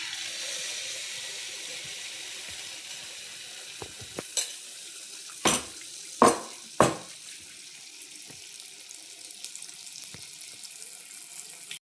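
Steady sizzling of Kerala neyyappam batter frying in hot oil, with a few sharp clinks and scrapes of a utensil partway through.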